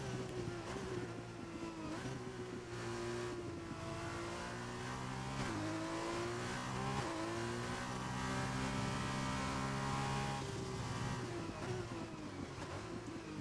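Formula 2 race car lapping the Portugal circuit in a racing video game, its engine revving and shifting continuously through gears as it accelerates and brakes, loud and close throughout.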